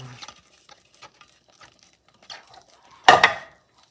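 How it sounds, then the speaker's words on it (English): Mini marshmallows are stirred into a thick chocolate mixture: quiet, sparse scraping and soft taps of a utensil, ending in one louder clatter against the bowl. "Now stir this in until it's all melted and become one with the mixture"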